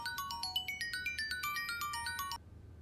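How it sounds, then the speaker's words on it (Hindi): A mobile phone ringtone plays a bright, repeating electronic melody of quick high notes, loud and steady for about two seconds before cutting off abruptly, in a domestic scene from a Pakistani TV drama. "फोन।"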